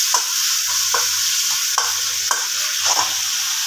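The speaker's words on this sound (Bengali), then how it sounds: "এবার ভালো করে এগুলোকে একটুখানি ভাজা ভাজা করে নেবো, মানে সমস্ত মশলাটাই একটু নরম করে নেবো।" Spice paste stirred and fried in oil in a pan for a small-fish curry, steady sizzling broken by rhythmic scraping strokes of a spoon, about one stroke a second, close and clear.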